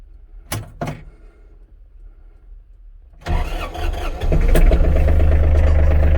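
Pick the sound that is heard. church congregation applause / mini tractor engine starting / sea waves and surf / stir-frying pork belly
mini tractor engine starting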